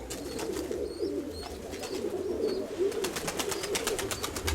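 Pigeons and young pigeons cooing, soft repeated coos over a low ambient hum, with faint higher chirps and a steady cluster of closer calls toward the end.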